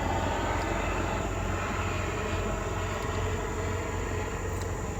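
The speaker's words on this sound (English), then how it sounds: "I hate when planes fly overhead." Steady, broad roar of an airplane flying overhead, a continuous distant engine drone that holds level for the whole stretch with no voices.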